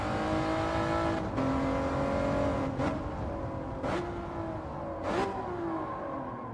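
BMW Z4 engine in a racing video game, revving steadily with a whirring drone, pitch climbing through gears with brief dips at each shift, loud and close throughout.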